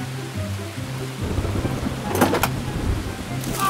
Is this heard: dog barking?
no